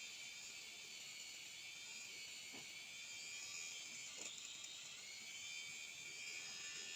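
An electric eyebrow and facial hair trimmer runs with a steady high-pitched buzz, close and unbroken, with a couple of faint clicks partway through.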